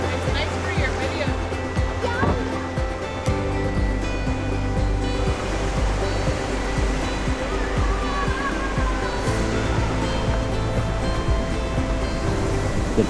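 A river rushes through a canyon in Banff and Jasper National Parks in Canada in summer, a loud, steady roaring wash of water that holds constant throughout, with a voice faintly audible underneath.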